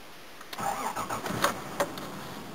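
A 1984 Toyota Cressida engine cranks and catches with a few sharp clunks, then settles into a quiet mid-pitched idle.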